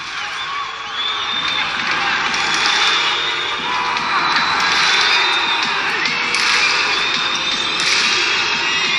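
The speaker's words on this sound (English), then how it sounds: "The Icelandic hand clap. This started by the Algerian fans behind the Equatorial Guinea goal." Algerian football fans behind the goal at an Africa Cup of Nations match in Morocco against Equatorial Guinea perform the Icelandic thunder clap, a steady roar of crowd noise and cheering filling the stadium throughout.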